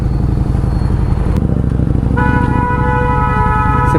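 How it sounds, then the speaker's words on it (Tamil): Motorcycle ride through busy peak-hour traffic in Hosur: a loud, close engine hum runs throughout while several vehicle horns honk, including a sharp toot and a sustained blaring horn near the end. "டிராஃபிக்குள்ளே மாட்டிக்கிட்டோம்."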